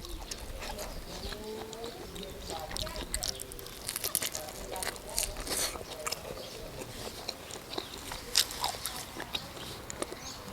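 Big bites of fresh chili peppers crunched and chewed up close during a Thai meal of sausage, glass noodles and pickled ginger, with busy mouth noises repeating throughout over a noisy background.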